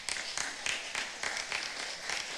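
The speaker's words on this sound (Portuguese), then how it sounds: "Vamos aplaudir." A small church congregation claps in an irregular patter of distinct hand claps during a Bible study, fairly faint and without talking.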